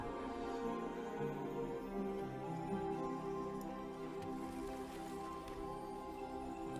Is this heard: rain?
yes